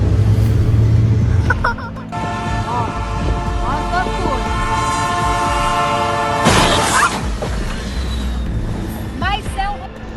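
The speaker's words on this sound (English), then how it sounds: "Train hits Chick Gatewood beverage truck in Tifton," A train sounds its horn in long sustained blasts near a level crossing in Tifton, Georgia, then strikes a Chick Gatewood beverage truck with a sharp crashing burst, followed by rumbling rail noise and more horn.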